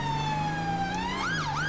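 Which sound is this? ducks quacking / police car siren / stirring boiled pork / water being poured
police car siren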